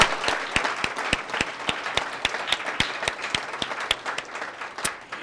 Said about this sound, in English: Let's give all of our graduates one last round of applause.